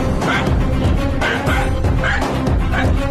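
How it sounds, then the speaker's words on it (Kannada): A dog barking repeatedly in a fast rhythmic series of loud, close yips and barks filling the whole short stretch. "ಏನೋ ನಾಯಿ ಹಾಗೆ ಬೊಗಳ್ತಾ ಇದೆ."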